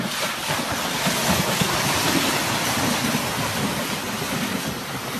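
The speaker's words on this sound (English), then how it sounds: "Ooh, thunder and ocean." Roaring ocean surf, guessed as thunder with waves in a sound-guessing game, forms a dense, constant rumble and hiss that holds level throughout with no pauses or voices.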